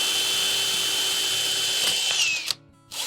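A power drill fitted with a 1/8 inch bit bores through a hole while installing cellar door hardware, whining loud and steady at close range for over two seconds before cutting out, with a short pause and a brief restart at the end.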